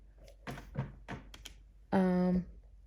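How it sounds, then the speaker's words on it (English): A squeaky office chair gives one loud, sustained creak of about half a second, right after a stretch of quiet talking. "Disregard my squeaky chair."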